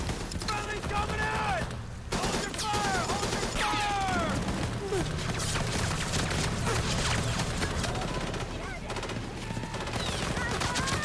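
War film battle on Okinawa with 60 mm mortar fire and rapid gunfire, dense bursts of shots under shouting soldiers' voices, loud and continuous throughout.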